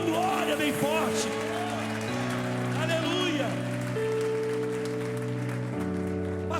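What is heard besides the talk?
church congregation applauding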